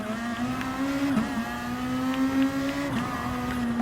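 A Gr.2 GT500 race car in the Gran Turismo Sport game holds a steady, loud engine drone, with brief dips in pitch where it shifts between third and second gear.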